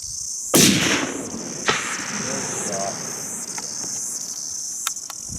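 A single sharp hunting-rifle shot fired at a red stag on a New Zealand hunt cracks loudly against steady insect chirping, followed by faint brushy rustles and a couple of small ticks.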